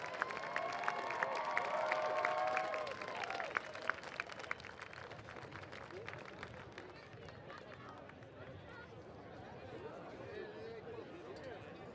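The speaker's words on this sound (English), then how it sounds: "it's so great to hear the clapping of a crowd in person here at Purdue" A crowd claps in person at the Purdue Grand Prix kart race, a soft, distant patter of applause behind a race announcer's continuous commentary, with the clapping thinning out after a few seconds.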